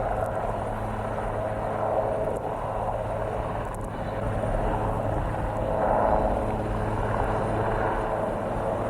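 A hovering rescue helicopter's rotor and engine whine hold a steady, continuous roar at a distance, swelling slightly at moments, with no talking.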